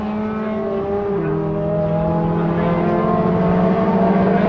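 Toyota MR2 race cars in a championship race at Rockingham drone past at the line, a loud, steady, harmonic engine note holding throughout with no talk over it.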